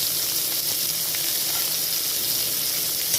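Carambola pieces with a little salt and turmeric sizzle in a pan for a Bengali chutney, giving a continuous, fairly loud frying hiss that stays steady from start to finish.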